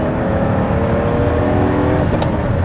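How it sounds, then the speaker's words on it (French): A Ferrari Testarossa's 12-cylinder engine pulls hard on the road, a loud, smooth, continuous roar heard from inside the car with no talk over it. "C'est un 12 cylindres très linéaire."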